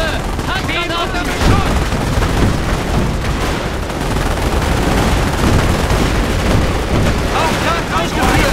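Tank guns and machine-gun fire from the World War II tank game Panzer Elite, a dense, loud continuous barrage of shots and booms with a voice mixed in.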